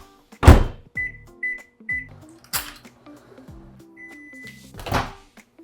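A microwave used to melt chocolate at 50% power gives a series of short high keypad beeps and several solid door thumps and clunks, close and isolated in a quiet kitchen.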